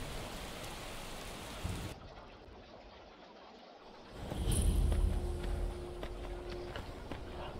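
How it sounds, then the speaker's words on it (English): Steady hiss of heavy rain in Skyrim with a patter of drops on a surface, briefly quieter before swelling into a louder, denser downpour. "Why is it always raining?"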